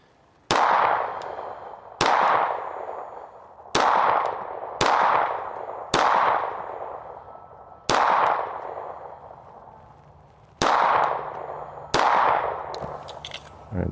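Kimber 2K11 Eclipse pistol fired at targets on a range: eight sharp, loud gunshots spaced roughly one to two seconds apart, each ringing out with a decaying echo, no talking.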